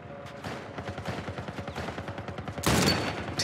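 Rapid rhythmic volleys of gunfire in The Last of Us Part I, a sustained stream of repeated shots at steady pace, then a louder, closer blast near the end.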